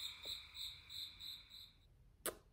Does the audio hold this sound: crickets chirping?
yes